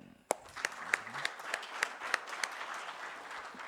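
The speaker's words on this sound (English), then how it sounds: "round of applause again." A small, sparse round of applause at a credit card launch event, a handful of distinct claps at a steady rhythm, fairly quiet, with faint voices in the background.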